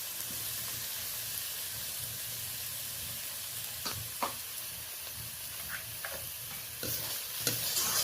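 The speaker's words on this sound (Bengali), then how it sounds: "লবণ দেওয়ার পর বেশ ভালো করে নাড়াচাড়া করে নিলাম।" Onion, tomato and green chilli fry with salt in a pan while being stirred, giving a steady low sizzle with occasional scraping clicks and brief louder stirring strokes near the end.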